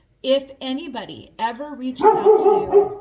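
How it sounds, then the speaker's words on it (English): A pet dog barks in a home, a few sharp yaps up close and fairly loud, mixed in with someone talking. "that's my dog, of course he's going to start barking."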